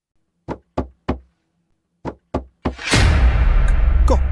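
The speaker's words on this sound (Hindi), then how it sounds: "इस वक्त कौन हो सकता है और दरवाजा इस तरह क्यों पीट रहा है?" Heavy cartoon knocks bang on a door in two bursts, three sharp thuds and then two more, before a loud rushing clatter follows as the door gives way.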